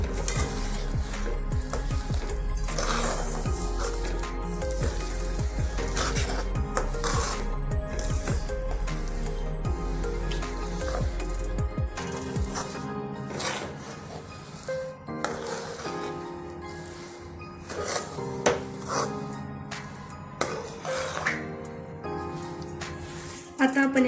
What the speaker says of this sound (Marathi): आता आपण हे प्रॉपरली मिक्स करून घेणार आहोत.